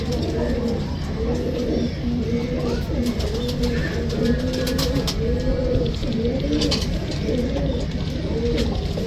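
Pigeons cooing close by in repeated soft, throaty phrases that roll on steadily and evenly, with faint background noise and no talk.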